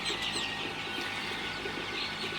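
Sonali super hybrid chicks kept at night peep and cheep in a dense, continuous chorus, close and fairly loud, with no voices over them.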